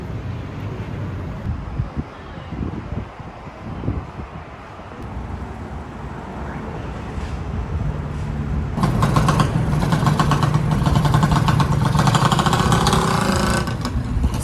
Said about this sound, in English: So there we have the Malaysian style of motorbike. I'm going to call it the Honda Wave.